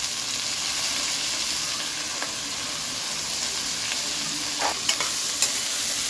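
Bottle gourd and soaked chana dal sautéing in a pan on medium heat, a steady close sizzling hiss with occasional scraping stirs of a spoon, no talk.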